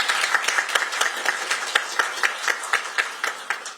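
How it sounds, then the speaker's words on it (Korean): Crowd applause greets a guest at a Korean political party's launch ceremony for its game committee, held in a hall, with clear rhythmic clapping that settles into a fairly regular beat toward the end. "큰 박수로 맞이해 주시기 바랍니다"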